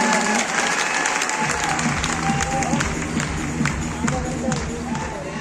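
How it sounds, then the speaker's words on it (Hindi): Loud, dense applause from a large crowd at a celebration event in a Delhi stadium, continuous clapping with some cheering that fills the whole stretch without pause. "इनके लिए भी जोरदार ताली है ना"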